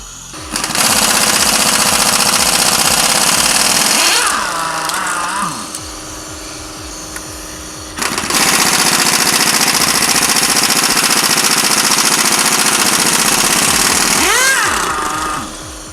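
Air impact wrench loosening wheel lug nuts on a Corvette C8 Z51, a loud continuous rattling hammer in two long bursts with a brief pause between, each trailing off as the tool spins down.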